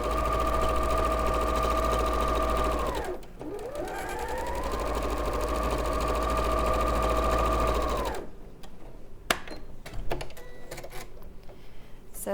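Sewing machine running a straight stitch with a 1/4 inch foot while piecing quilt sashing strips, a steady continuous whir for about eight seconds with a brief pause partway, then stopping into quieter handling clicks.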